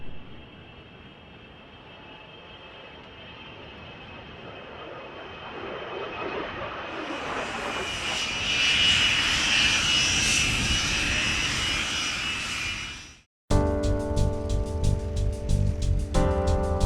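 Piston-engined aircraft departing from a grass runway at an airshow, its engine drone swelling from distant to a loud roar as it passes close, then fading, before other sounds cut in abruptly.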